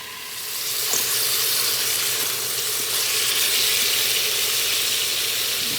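Beef sautéing on sauté mode in an Instant Pot for keto beef stew with celery, a loud, steady hiss and crackle of sizzling that swells in after the first second and holds evenly.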